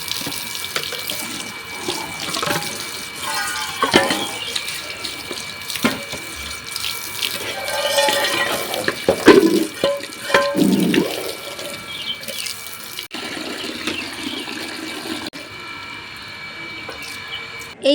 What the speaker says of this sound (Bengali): আমি কিন্তু কলের জলটা ছেড়ে নিচ্ছি